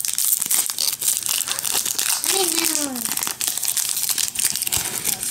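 A foil pack of Grossery Gang toy cards is torn and crinkled open, with close, continuous rustling and crackling of the wrapper and a brief higher voice-like squeal partway through.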